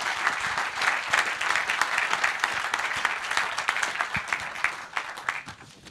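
An audience at a sports conference panel applauds steadily, a dense wash of many hands clapping that holds for several seconds before tapering off at the end.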